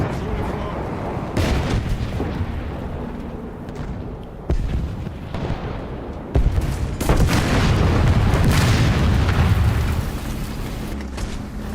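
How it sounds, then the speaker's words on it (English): Machine gun fire and explosions in the tank game War Thunder: a loud, dense, continuous barrage of booming shots and blasts filling the scene, with a voice talking over parts of it. "Fucking machine gun!"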